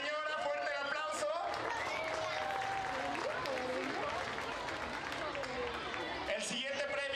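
At a Mother's Day celebration in Apaseo El Grande, an audience applauds a prize winner with continuous clapping and crowd noise under a voice speaking over the applause.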